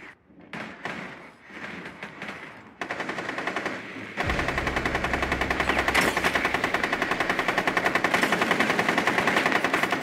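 Rapid automatic gunfire from a video game, with sparse shots at first that switch to a loud, sustained stream of fast machine-gun bursts continuing to the end.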